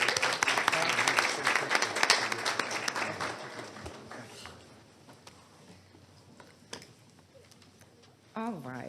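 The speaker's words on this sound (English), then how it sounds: "Please give our scouts a round of applause," Audience applause for scouts at a county board of commissioners meeting: steady clapping fills the room for several seconds, then thins out and fades, with a voice speaking at the end.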